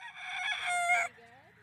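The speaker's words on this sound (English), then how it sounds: "There are rows of small white structures housing individual roosters on Troy Thompson's farm in southern Oklahoma" A game fowl rooster crows once, loud and close, its strained call ending abruptly, followed by faint low background sound.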